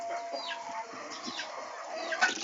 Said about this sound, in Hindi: ये देखें हमारी सारी मुर्गियाँ बाहर आ गई हैं